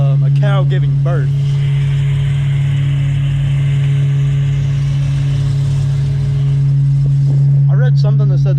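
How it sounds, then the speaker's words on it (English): An SN95 Mustang GT V8 idles steadily with a low, constant hum that surges slightly from an idle fault, and a voice talks briefly at the start and end. "Idle surging, and there's a sound that sounds like a cow giving birth."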